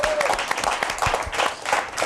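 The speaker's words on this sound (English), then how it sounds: "Give yourself a round of applause." An audience at a live interview event with Dr. Sebi claps in a loud, sustained burst of applause, busy and close, with a voice briefly breaking through.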